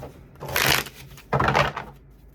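A deck of tarot cards is shuffled up close in two distinct riffling bursts, each about half a second of crisp papery flutter separated by a pause.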